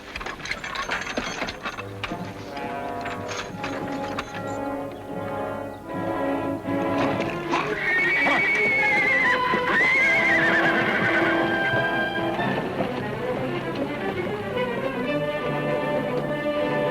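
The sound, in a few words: horses neighing and hooves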